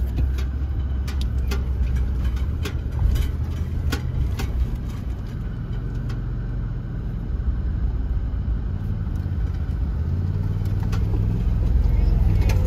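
An off-road vehicle on big truck wheels rolls past on a steep dirt track in the Arizona desert, its engine rumble and crunching tires steady and close, swelling louder toward the end.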